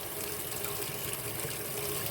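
Water runs steadily from a kitchen tap, a constant, close rushing gush that fills the moment without any voices.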